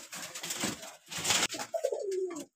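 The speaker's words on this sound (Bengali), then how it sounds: "এই যে কালো বর্ডার কবুতর, মিলি কবুতর।" Black-bordered wild pigeons coo nearby in a few short throaty bursts, ending in a longer rolling coo, with no talking.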